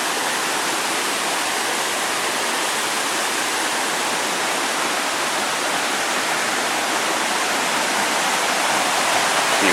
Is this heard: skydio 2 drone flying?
no